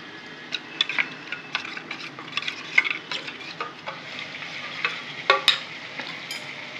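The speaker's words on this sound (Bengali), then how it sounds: "এর মধ্যে বন্ধুরা একটু জল দিয়ে মশলাটাকে আমি গুলে নেব।" Spice paste with Kashmiri chilli is stirred with water in a frying pan for a chicken dish, giving a soft continuous sizzle broken by repeated scraping strokes and light clicks of a spoon against the pan, close and with no talking.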